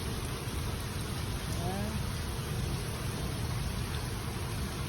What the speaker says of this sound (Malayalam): അപ്പുറത്തേക്ക് ഇപ്പുറത്തേക്കും കാണാൻ പറ്റാത്ത സൈസ് മഴ.